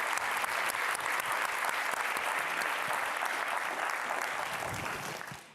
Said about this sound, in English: For all the audience, give a big round of applause to Celia, Jérôme, Hossam